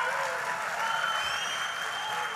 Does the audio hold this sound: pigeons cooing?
no